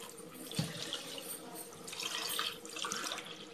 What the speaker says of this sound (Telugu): దాంట్లో 2 గ్లాసులు బియ్యంకి 4 గ్లాసుల్లాగా కొబ్బరి పాలు పోసుకోవాలి